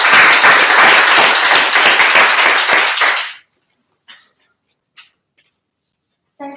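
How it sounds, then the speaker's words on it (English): A round of applause at a Toastmasters club meeting, brisk crowded clapping from a small audience for about three seconds, then stopping abruptly into near silence with a few scattered faint taps and a brief voice at the end. "Let's give her a round of applause."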